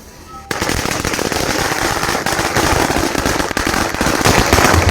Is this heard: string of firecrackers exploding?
yes